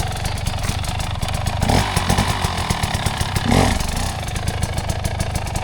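An enduro motorcycle engine revs hard and loud close by, with rapid throttle blips and two brief surges as the clutch pops, set against a steady rumbling drone from start to finish.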